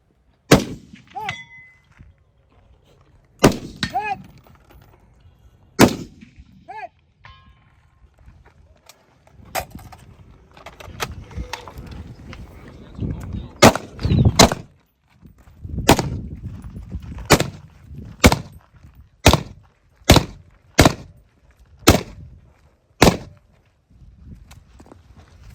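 Rifle shots ring out at targets during a 2 gun match in Heavy Division, likely from a .308: sharp, loud cracks that start out spaced apart, then quicken into a rapid, evenly paced string of about a dozen shots with faint metallic pings.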